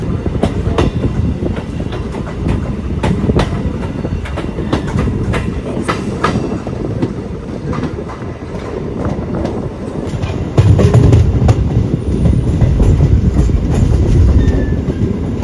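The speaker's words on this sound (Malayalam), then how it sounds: "കശ്മീരിലെ ഇലക്ട്രിക് ട്രെയിനിലും കൂടെ യാത്ര ചെയ്യാൻ പറ്റി നമുക്ക്" An electric train rumbles along the rails in Kashmir in winter, between Banihal and Baramulla, with continuous clickety-clack and a loud, steady roar close by, with no voices.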